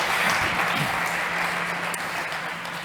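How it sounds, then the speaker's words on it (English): Audience at a startup pitch competition on energy transition applauds after a pitch, with a steady, moderately distant wash of clapping that fades slightly. "Big applause, please."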